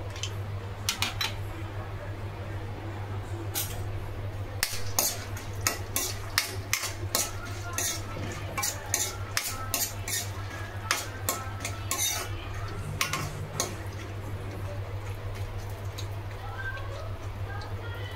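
Mustard seeds, chana dal and peanuts frying in a pan, a soft continuous sizzle broken by frequent quick clinks and scrapes of a spoon stirring, close and busy throughout.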